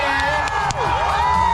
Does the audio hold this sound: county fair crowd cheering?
yes